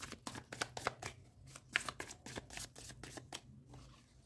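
Tarot cards shuffled and drawn by hand, a quick run of soft, crisp riffling flicks and taps in a quiet room, faint and close.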